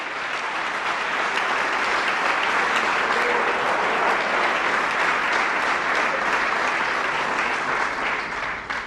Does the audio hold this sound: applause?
yes